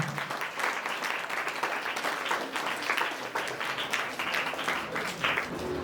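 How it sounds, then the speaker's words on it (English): An audience at an Independence Day event applauds steadily, many hands clapping at moderate volume in a continuous, slightly fluctuating wash for about six seconds with no talking. "Give a big round of applause to her."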